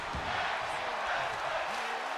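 Wrestling crowd chanting during a tag team match, a continuous wash of many voices shouting together, moderately loud and steady with no clear breaks.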